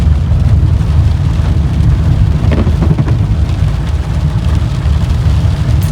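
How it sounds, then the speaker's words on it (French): A heavy thunderstorm with dense, loud rain drumming steadily on surfaces, a constant close roar with a faint rumble of thunder underneath. "Il y a un orage de fou malade par contre."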